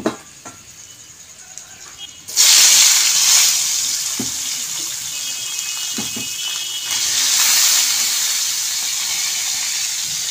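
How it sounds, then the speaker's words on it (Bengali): Boiled soybean chunks dropped into hot oil, a sudden loud sizzling hiss that starts after a quiet moment and keeps crackling, swelling again later, with a few light utensil taps. "আমি সয়াবিনটা সিদ্ধ করে রেখে দিয়েছিলাম, এবার ভেজে নেব।"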